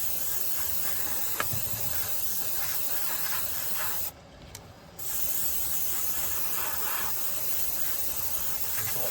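An airbrush sprays varnish onto Hornby OO gauge model wagons, a close continuous airy hiss that stops for a moment mid-way and then resumes steadily, with no talking.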